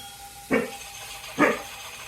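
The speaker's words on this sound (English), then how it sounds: "the dog's barking on the thing." Two short dog barks from a played recording, about a second apart, with a thin tinny quality as if from a speaker, over faint background hiss.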